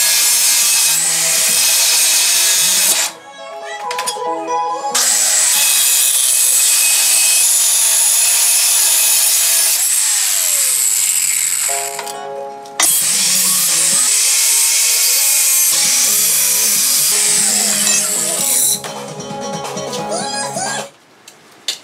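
Harsh, sustained cutting and grinding as a power tool cuts through cargo trailer metal and strips prep paint, running loud and close for long stretches with brief pauses and shifting pitch.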